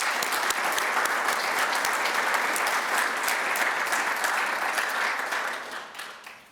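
Sustained, dense applause from an audience at a community college foundation achievement awards ceremony, steady and full for several seconds before tapering off at the end.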